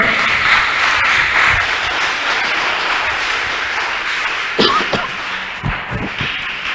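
A church congregation claps together in sustained, dense applause during a prophetic service, and the clapping thins into a few scattered claps near the end.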